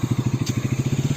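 A motorcycle engine runs at close range on a cold early-morning ride, putting out a fast, even, regular thump with no voices.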